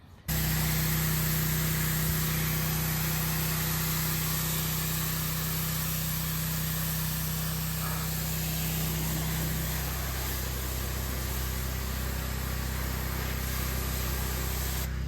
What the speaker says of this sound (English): After this, we're just gonna do a final rinse down of the driveway, get all this dirt out of the way so we can let this dry.